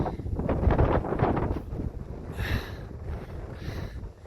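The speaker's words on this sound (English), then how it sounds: "It's getting windy" Wind gusts across a steep mountain trail on Mummy Mountain at Mount Charleston, buffeting the microphone in rough, uneven rumbling bursts with a couple of brief hissy swells, no voices present.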